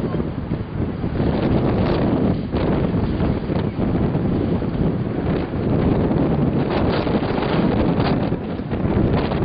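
A strong lodos windstorm in İnegöl roars into the microphone as continuous loud, buffeting gusts with heavy wind rumble, filling the whole stretch without pause.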